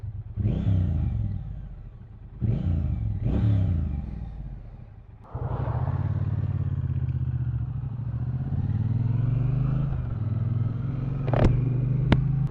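A 2021 Triumph Bonneville T120 motorcycle opens with three sharp throttle blips that rev up and fall back, then pulls away into a sustained close engine drone that climbs through the gears, with a couple of brief clicks near the end.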